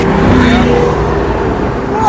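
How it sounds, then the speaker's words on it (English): The V8 twin-turbo engine of a McLaren 720S supercar growls loudly and steadily from close by, a low rumble running under the whole span. "This is a V8 twin-turbo and yet..."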